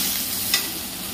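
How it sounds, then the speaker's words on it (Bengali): Chickpea masala fries in an oil-filled wok with a steady, dense sizzle throughout, broken briefly by a single soft scrape of stirring midway. "কাবলি ছোলার মশলাটা কষিয়ে নিলাম"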